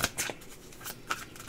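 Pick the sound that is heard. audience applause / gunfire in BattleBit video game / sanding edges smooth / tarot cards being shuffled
tarot cards being shuffled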